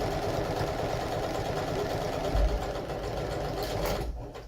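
Sewing machine stitching a seam in fabric, a steady loud mechanical whir that runs close and unbroken for several seconds and then slows and stops.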